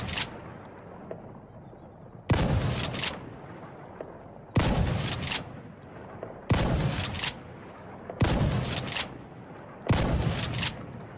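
An M870 pump-action shotgun fires in the video game Insurgency Sandstorm, five loud single booms spaced about two seconds apart, each with a short rack-and-reload rattle and fading echo.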